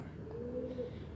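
Breeder pigeons cooing close by, a soft low rolling coo lasting about a second over a faint steady background.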